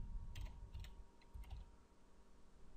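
Keystrokes on a computer keyboard, a short burst of several light clicks in quick succession, close and fairly quiet over a low steady background hum.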